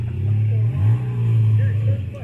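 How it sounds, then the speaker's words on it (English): A motorcycle engine drones steadily at a drag race, a loud, close, low hum that dips briefly and then holds, with a voice talking over it. "Listen to the motor."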